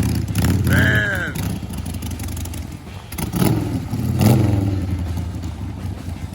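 A Harley Roadster XLS1000 engine on a 70's chopper build rumbles and revs up loudly nearby during carb adjustments, a rough mid-pitched roar rising and falling in a couple of throttle blips, with people speaking over it.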